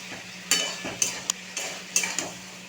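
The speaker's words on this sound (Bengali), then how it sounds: "মশলাটা দিয়ে দেবো লাউ শাক। খুব ভালো করে মশলার সঙ্গে কষিয়ে নেব।" Bottle gourd greens being stir-fried with spice paste in a pan, with a steady low sizzle broken by several sharp scraping and clinking strokes of a utensil against the pan, nearby and with no talk.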